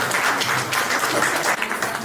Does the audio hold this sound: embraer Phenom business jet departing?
no